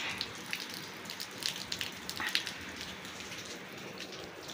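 Steady rain falling in Cyprus, a soft continuous hiss with scattered drips and patter on nearby surfaces and plants, fairly faint and with no voices.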